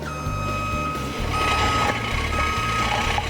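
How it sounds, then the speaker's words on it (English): A forklift's reverse gear warning beeper sounds steadily and loudly over a running engine, with repeated pulsing low tones during a pre-start check. "Check the beeper is working."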